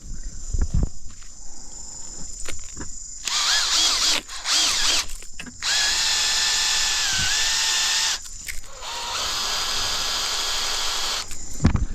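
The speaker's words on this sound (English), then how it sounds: "So they just hook up to your drill." A power drill whines loudly in several long spinning bursts with short pauses between, its pitch wavering slightly as it runs, spinning a chain knocker drain-cleaning tool inside a pipe.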